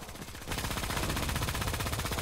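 Rapid automatic gunfire in the shooter game Creative Destruction, a loud sustained burst of tightly spaced shots that starts abruptly after a short lead-in and continues to the end.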